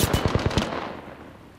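Automatic gunfire in the video game Apex Legends: a rapid burst of about six loud, close shots within half a second, then a fading tail.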